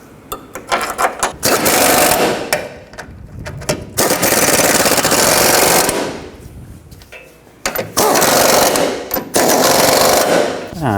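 Impact wrench driving transmission mount bolts on a 2009–17 Chevy Traverse, heard as loud, close bursts of rapid hammering, several separated by short pauses.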